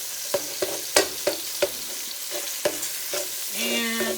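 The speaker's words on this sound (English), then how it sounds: "And I'm just browning this ground beef up." Ground beef with onion and minced garlic browning in a pan: a soft continuous sizzle broken by a regular series of sharp spatula taps and scrapes, close and fairly loud.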